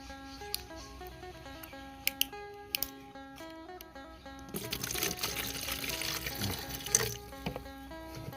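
Liquid bio-fermented water is poured, first a few small knocks and clinks, then a steady close splashing gush that runs for several seconds before easing off.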